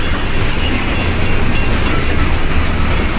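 A distant train in Rosenberg, Texas rumbles steadily, a low continuous roar with a faint rattling wash that stays even throughout.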